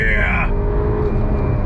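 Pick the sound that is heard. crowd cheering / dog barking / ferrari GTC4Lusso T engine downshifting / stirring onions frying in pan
ferrari GTC4Lusso T engine downshifting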